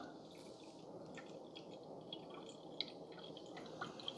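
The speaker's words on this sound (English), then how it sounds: "And it's simply just draining out of this into the carafe" Cold brew coffee from a Cuisinart DCB-10 automatic maker draining into its carafe, a soft steady trickle with scattered faint drips and splashes, close and quiet, no talking.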